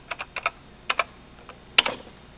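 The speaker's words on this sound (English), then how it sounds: "I'll type the command plot and press return." Keystrokes on a Synclavier computer terminal keyboard as a command is typed, several separate clicks in small bursts and then a firmer double press at the end, close and fairly quiet with no talking.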